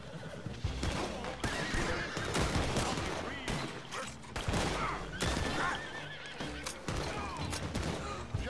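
Horses whinnying and clip-clopping during a Red Dead Redemption gunfight near a carriage, with repeated loud neighs over rapid bursts of gunfire, busy and close throughout.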